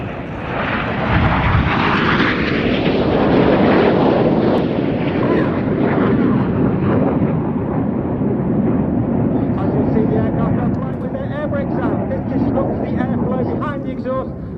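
Red Arrows jets roar past at Cosford Airshow during the rollbacks manoeuvre with blue smoke, a loud sweeping engine rush that fades into a lingering rumble as a commentator talks throughout.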